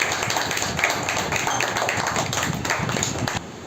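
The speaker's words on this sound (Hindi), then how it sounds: "बच्चों जोरदार ताली बजाओ।" Children at an anniversary gathering clap loudly together, a dense, fast, continuous patter of many small hands close by that cuts off sharply near the end.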